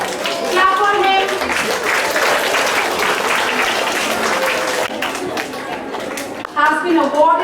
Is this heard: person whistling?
no